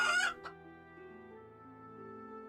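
Chickens in the video game RimWorld give a quick burst of clucking, then a soft game backdrop of sustained tones plays on with no voices.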